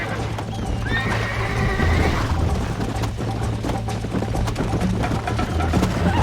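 Steady clip-clop of galloping hooves with a horse neighing partway through, loud and close, over a faint background hum, in the video game Red Dead Redemption 2.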